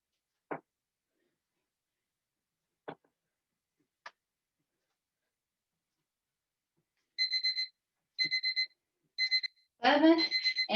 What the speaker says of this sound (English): Our timer letting us know we got it done